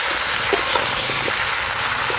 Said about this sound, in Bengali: এই যে ঝোলের জন্য আলু আর পটল একসঙ্গে একটু হালকা করে ভেজে নেব